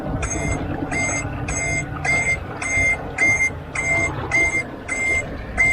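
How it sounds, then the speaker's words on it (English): An anchor alarm app on a phone aboard a boat beeps in a steady repeating pattern of about ten evenly spaced electronic tones over a low background hum. "Oh, that's my anchor alarm."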